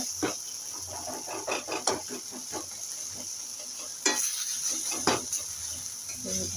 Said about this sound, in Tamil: தக்காளியெல்லாம் அப்படி வதக்கிட்டு விடுங்க.